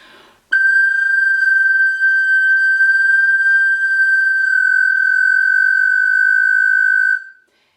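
A sopranino recorder sounds a single sustained, loud, piercing high note held for about seven seconds, thin and steady with a faint beating that suggests slightly out-of-tune high recorders, then cuts off abruptly.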